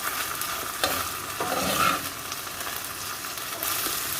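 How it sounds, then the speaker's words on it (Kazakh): Minced meat seasoned with black pepper, coriander and crystal salt fries steadily in a pan, a continuous close sizzle broken by a few scrapes and stirs, with no one talking. "Осылай үстіне қара бұрыш, кориандр, кристалл тұзын, тұз қосып, жақсылап қуырып алсаңыздар болады."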